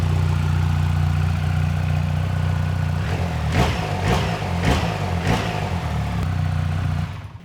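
A motorcycle with a stock exhaust idles at a low, steady rumble, and a few short throttle blips rise briefly above the hum before the engine settles again.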